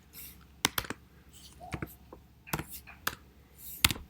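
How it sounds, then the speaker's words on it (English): Computer keyboard clicking as an equation is typed into an online graphing calculator, a few sparse, uneven keystrokes close by in a quiet room. "I'm going to type in the top equation."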